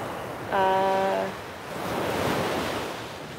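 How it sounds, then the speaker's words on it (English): Ocean waves wash onto a shore on a morning beach, a broad rushing surge that swells and recedes, with a brief tonal hum early on. "the waves are great this morning, Joe."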